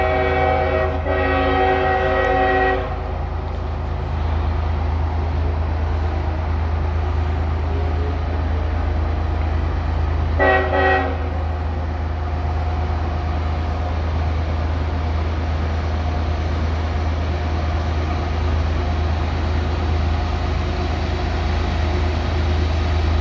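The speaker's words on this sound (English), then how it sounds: "eastbound train coming" A heavily loaded CSX coal train climbs Parrs Ridge on the B&O Old Main Line, its diesel engines rumbling low and steady for the whole stretch, with two blasts of the horn, one at the start and a shorter one midway.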